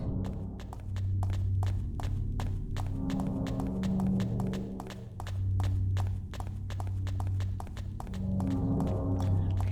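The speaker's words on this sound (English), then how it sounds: "The sound of Maria walking kind of sounds like Cheryl's steps at the beginning of Silent Hill 1" Maria walks steadily through Silent Hill 2, her footsteps sounding as regular sharp clicks over a low droning hum and throbbing ambience, the steps continuing at an even pace throughout.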